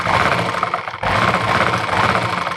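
A sewing machine stitches a salwar in a continuous, steady mechanical whir, close and fairly loud, with one brief slowdown before it runs on evenly.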